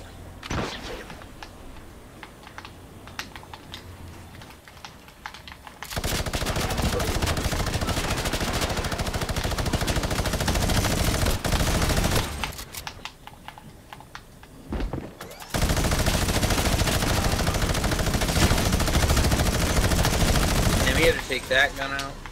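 Rapid bursts of gunfire in the battle royale video game Fortnite, loud sustained volleys in two long stretches with brief gaps between them, close and dense like automatic weapon fire.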